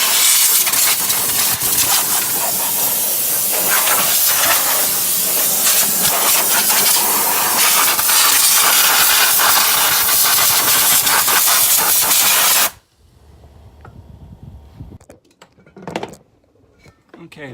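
Compressed air from an air compressor blasts loose dirt and dust out of the engine bay of a Ford 5.4L V8, a loud continuous hiss that cuts off abruptly, followed by quiet handling clatter.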